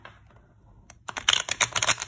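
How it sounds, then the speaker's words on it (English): A thin mini tarot deck, Tarot of the New Vision, being riffle shuffled by hand: near silence, then a quick, close flurry of crisp card flicks and snaps lasting about a second. "I don't think mini decks are made to be riffle shuffled, but I can give it a try."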